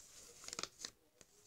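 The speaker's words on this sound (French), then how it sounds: "C'est l'enlever le papier." Wrapping paper being torn off a small gift box containing a doll, heard as a quiet cluster of short ripping and crinkling bursts, then a single sharper rip, close by with no talking.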